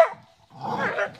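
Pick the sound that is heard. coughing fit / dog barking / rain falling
dog barking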